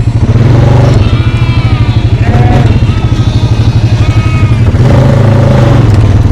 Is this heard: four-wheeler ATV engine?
yes